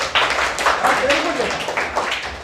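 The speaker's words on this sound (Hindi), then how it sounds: "फिर ताली बजाओ उसके लिए।" Classroom applause for a student after a reading of an essay, a steady patter of many small hands clapping fairly close throughout, with children's voices mixed in.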